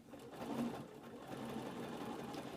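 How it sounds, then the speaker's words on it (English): A domestic sewing machine chain-piecing quilt fabric for a Log Cabin quilt runs steadily and continuously with a soft mechanical whir, close by and even in level, with no talk. "we're just going to chain piece these through the machine"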